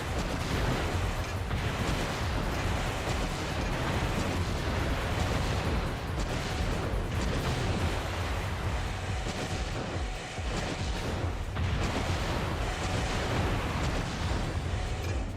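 Napalm launcher explosions in the mech video game Armored Core 3 make a continuous, loud roar of fiery blasts and rumbling booms with repeated surges.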